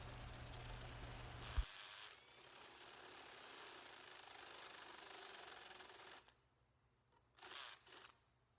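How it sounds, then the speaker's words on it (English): Unibit step drill bit boring holes in metal while working on a junkyard 2.2L Dodge Turbo engine, a loud continuous grinding, rattling drone for about six seconds that stops abruptly, followed by two short bursts. "a little more drilling"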